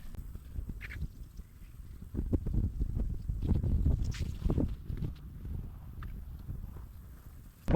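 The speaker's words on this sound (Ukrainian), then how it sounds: "погодою, звісно, сьогодні з тим вітром не дуже обстановочка" Wind blowing at a fishing spot by an abandoned quarry, buffeting in low, rumbling gusts that swell and ease across the stretch, with faint scattered knocks beneath.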